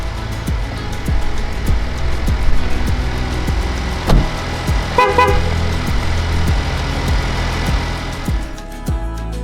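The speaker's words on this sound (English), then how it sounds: "the exiting with the engine running double honk" Two short Ford Bronco horn toots sound in quick succession, the warning for exiting with the engine running, over an idling engine and rhythmic ticking, fairly close.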